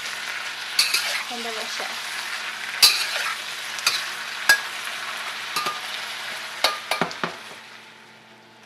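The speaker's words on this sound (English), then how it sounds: "You want to keep on mixing to ensure that everything is mixed together" A stir-fry sizzles in a pan while a utensil stirs and scrapes it, with sharp clinks and knocks against the metal at irregular intervals over a steady, close frying hiss; a voice speaks briefly.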